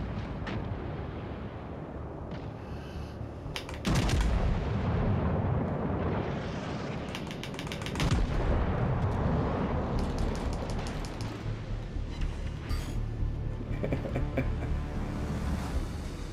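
Big naval guns fire in World of Warships: Legends from a Texas battleship in a PvP match, deep heavy booms and rumbling blasts rolling one into the next over a steady low engine-and-sea drone, loud and close, with no speech.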